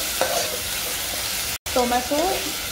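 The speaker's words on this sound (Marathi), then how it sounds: "आता हे सगळं मिश्रण जे आहे ते चांगलं असं परतून घ्यायचं आहे." Chopped tomato and spice mixture sautéing in a pan for restaurant-style dal tadka: a steady close sizzle and stirring throughout, with brief tonal voice-like sounds over it and a momentary dropout midway.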